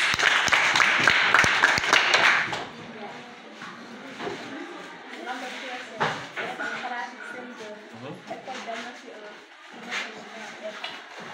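A short burst of classroom applause for a CM2 pupil at a school quiz, dense clapping for about two seconds that then stops, after which people talk and move about in the room.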